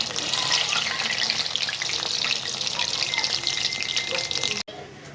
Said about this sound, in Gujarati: આપણા મેંદુવડા હવે શેકાઈ ગયા છે